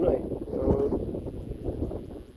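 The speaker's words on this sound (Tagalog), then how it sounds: "Okay na yan, lakas ng hangin." Steady low wind rumble buffeting the microphone in a fertilized crop field, with a faint voice mixed in underneath.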